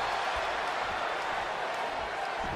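A steady, dense crowd roar fills an arena in the WWE 2K20 wrestling video game during a Triple Threat match, holding at an even level throughout with no distinct voices breaking through.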